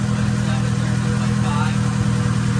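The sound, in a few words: Honda Integra GSR B18C1 engine idling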